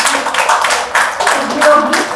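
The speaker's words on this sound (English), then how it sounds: "Let's give a big round of applause for Toastmaster Nagesh." A Toastmasters club audience gives a brief burst of dense hand clapping, a close, even patter of applause lasting a couple of seconds.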